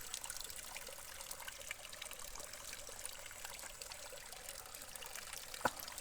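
Water pouring and trickling while being filled during a morning routine on a farm, a faint, steady, thin stream heard alone with a small splash near the end.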